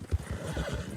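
Horses in Red Dead Redemption 2 whinny and stamp close by in a short, busy burst of neighing and clip-clopping hooves.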